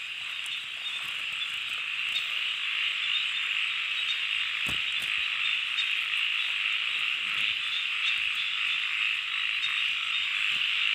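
Frogs and toads croak steadily in rainy rural countryside, a dense continuous chorus that stays loud and unbroken throughout, with a few sharper calls standing out.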